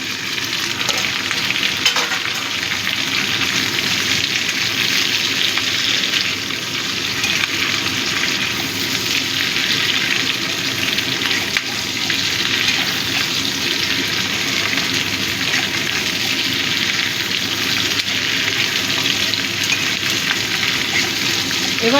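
Onions and capsicum fry in a hot pan for chili chicken, a loud, steady, close-up sizzle that stays constant throughout, with occasional stirring scrapes and no talking.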